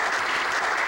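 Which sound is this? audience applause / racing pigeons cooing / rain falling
audience applause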